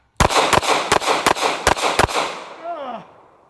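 A Taurus Curve pistol fires six sharp, loud shots in quick succession outdoors, each crack trailing into a short echo, then a brief vocal exclamation as the sound fades.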